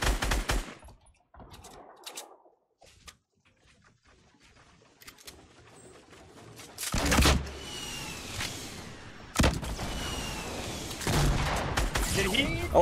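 Shotgun blasts ring out in a Fortnite match, with several sharp, loud bursts of gunfire arriving in separate clusters amid fainter game noise and quieter stretches.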